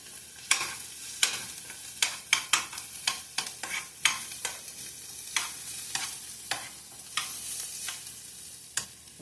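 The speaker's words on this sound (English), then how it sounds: "I chopped up onions. I'm giving them a quick saute." Chopped onions sizzle softly in a pan, with a steady frying hiss broken by repeated sharp scrapes and clacks as they are stirred and tossed, close and fairly quiet with no talking.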